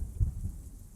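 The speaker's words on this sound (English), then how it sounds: "It was a dark and stormy night." Thunderstorm with rain used as a sound effect for a children's haunted house story: a deep rumble of thunder swells and fades over a steady low wash of rain, brief and moderately loud.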